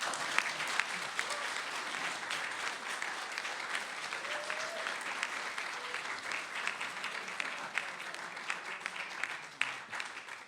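Sustained applause from a luncheon audience at the National Press Club, a dense, steady wash of clapping hands that fills the room for about ten seconds without a break.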